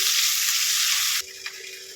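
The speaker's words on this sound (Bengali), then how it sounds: "পেঁয়াজ দিয়ে দেবো, একটা বড় সাইজ পেঁয়াজ দিয়ে এটাকে লাল করে ভেজে নেব।" A large onion fries in hot oil with cinnamon and bay leaves for a soybean-and-potato curry, giving a loud, steady close sizzle that drops to a quieter crackle after a second or so.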